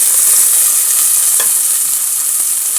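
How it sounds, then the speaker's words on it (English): Minji and other vegetables sizzle steadily in hot oil while being stirred, a dense continuous hiss with a brief clink near the middle, close and loud with no talking. "My oil is hot now. I'll go ahead and add my vegetables"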